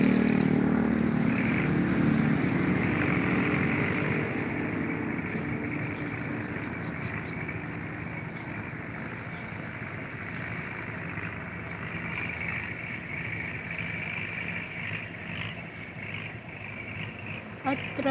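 A rice harvester's reaper engine runs steadily through the whole stretch, a loud continuous mechanical drone with a constant low hum at harvest time in a Philippine field.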